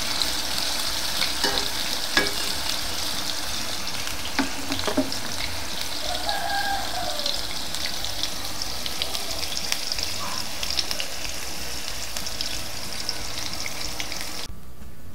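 Tofu fries in hot oil with a constant close sizzle and crackle, the spitting splatters rising and falling as the pieces are stirred and spread around the pan.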